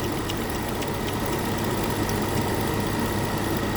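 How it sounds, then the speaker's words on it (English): A 2009 Nissan Maxima engine idles with its AC compressor engaged, a steady, loud, close-up mechanical drone with a faint ticking running through it. "We have compressor activation."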